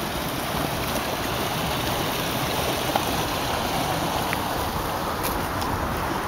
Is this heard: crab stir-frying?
no